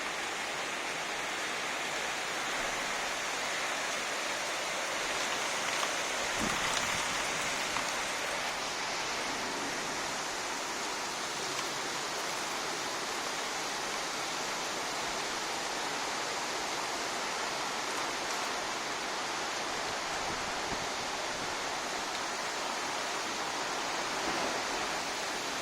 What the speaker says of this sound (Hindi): भयानक बारिश,